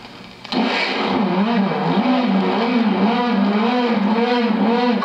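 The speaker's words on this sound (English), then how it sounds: "900 horsepower, oh boy. And I started it up." A 900-horsepower car engine starts with a short crank and then catches into a loud, rough, throbbing idle that stays close and steady after the start.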